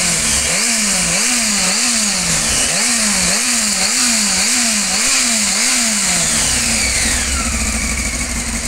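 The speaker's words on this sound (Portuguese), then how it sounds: "E olha, olha o ronco do motor" A Honda Hornet 600 motorcycle engine, 600 cc and 96.5 hp, recently serviced, idles then revs in a steady series of about nine rising-and-falling throttle blips before settling back to a rough idle, loud and close.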